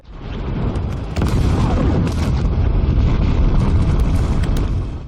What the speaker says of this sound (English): at that moment, dozens of missiles attack the outpost